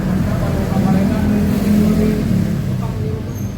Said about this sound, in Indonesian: Karena motor ini sulit dinyalakan